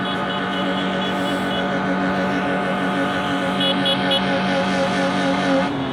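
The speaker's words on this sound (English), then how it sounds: "The loudest part of this is really just the cars honking their horns when they come by" Cars drive past at a camel race track in Kuwait, with steady engine noise and sustained horn tones blaring close and loud throughout, with no talk.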